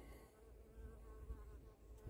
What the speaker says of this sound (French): Tiens, il y a une abeille.